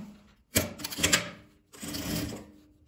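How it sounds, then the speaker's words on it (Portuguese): Sewing machine stitching bias binding onto fabric, two short bursts of rapid mechanical clatter separated by a brief pause, close and fairly quiet. "Eu vou pregar um viés."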